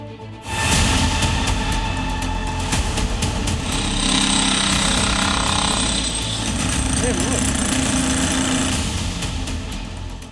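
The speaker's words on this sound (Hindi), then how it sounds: "भाईजान खुद ही ड्रिलिंग मशीन ले आए और फिर एक एक करके मदरसे की दीवार, छत और बालकनी को छलनी करने लगे" A drilling machine hammers continuously at a madrasa's walls and roof, a loud, harsh percussive rattle that runs for the whole stretch with little pause.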